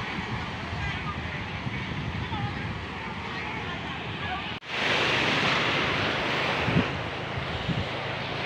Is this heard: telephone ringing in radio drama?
no